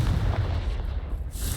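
A fiery Confringo blast goes off in the Hogwarts Legacy video game, a booming, gunshot-like impact with a heavy low rumble that tails off, then a brief airy hiss at the end.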